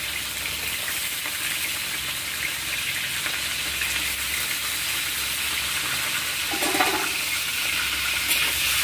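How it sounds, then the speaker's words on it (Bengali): Cut bitter gourd frying in hot oil for Bengali sukto gives a steady, even sizzle that fills the whole stretch, with a brief bubbling swell near the end. "কেটে রাখা উচ্ছেগুলো দিয়ে আমি ভালো করে ভেজে নেব।"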